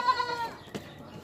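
A goat at a livestock market gives a single short bleat near the start, followed by quiet handling noise and a brief thump.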